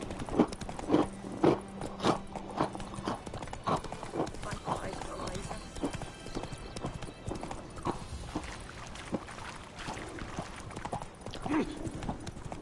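Horse hooves clip-clop steadily in The Witcher 3, a close, rhythmic trot of repeated thuds, with voices occasionally heard over the hoofbeats.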